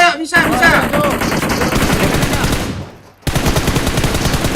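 Rapid automatic gunfire in PUBG Mobile, loud dense bursts that cut out briefly near the end and then resume, with faint talk underneath.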